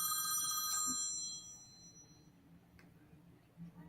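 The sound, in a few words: cell phone ringing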